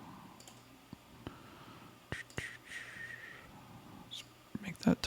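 Sparse, soft mouse clicks on a MacBook Pro M1 Max, scattered irregularly and mostly faint, with someone talking quietly over them.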